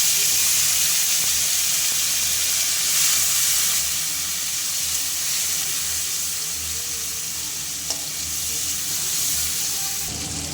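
Chopped tomato frying in hot oil with bay leaf, green chilli and whole cumin, giving a steady loud sizzle and hiss of steam that carries on unbroken, with a faint clink near the end.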